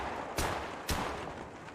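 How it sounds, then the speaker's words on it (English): Two rifle shots from theHunter: Call of the Wild, fired unscoped about half a second apart, each a sharp crack with a short decay over a steady hiss of background noise. "let's look at how fast they shoot"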